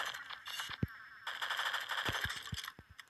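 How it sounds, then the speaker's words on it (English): Supercharged rifle firing in the Pixel Gun 3D video game: a few sharp shots spaced unevenly through a busy layer of game music and effects. "Supercharged rifle."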